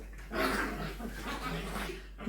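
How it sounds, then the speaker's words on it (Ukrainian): A small dog at home plays roughly and growls in a continuous grumbling snarl, fairly close and steady for about two seconds, with no talking over it. "Оце в нас така зла собака."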